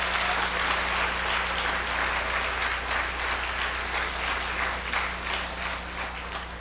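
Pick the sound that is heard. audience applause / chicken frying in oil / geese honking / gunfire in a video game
audience applause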